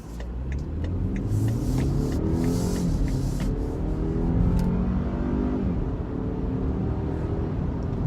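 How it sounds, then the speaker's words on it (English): A base-model four-cylinder SUV pulls away hard from a standstill in sport mode, its engine droning and climbing steadily through a long, loud acceleration with rising pitch, heard from inside the cabin without speech. "here we're actually going to try the car in sport mode"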